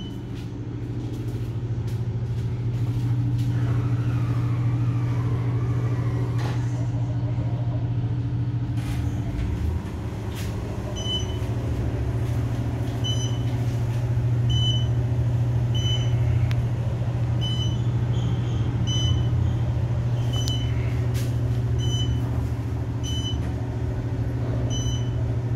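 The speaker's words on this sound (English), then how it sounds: "Notice how quick the beep between two and one was." A steady mechanical hum and rumble of a descending Otis machine-room-less traction elevator, with a series of short electronic beeps repeating near the end, no voices.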